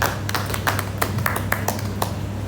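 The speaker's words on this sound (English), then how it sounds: "Another round of applause for the best editor with us." Short, crisp applause from an audience at an International Women's Day event, individual claps standing out sharply over a steady low hum.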